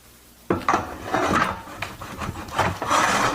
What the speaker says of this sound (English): insert the top frame, including the chest and abdomen pillow, into the support frame